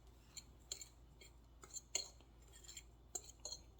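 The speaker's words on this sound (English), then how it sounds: "use a fork to mix around" A fork scrapes and clinks against a bowl while stirring baking powder into dry oats in a home kitchen. There are quiet, irregular metallic ticks and taps, faint and close, with no talking.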